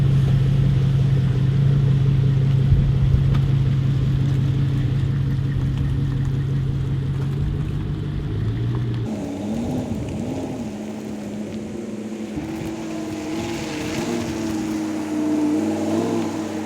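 Car driving while towing a buggy on a tow bar, a steady engine hum with road rumble that shifts to varying revs and whining tones partway through, continuous and moderately loud without talk.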